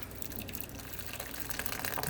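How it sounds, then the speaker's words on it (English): Hot tap water pours into a container mixed with a little dish soap, a soft, continuous splashing fill that grows slightly fuller toward the end, quiet and with no speech. "And some hot water."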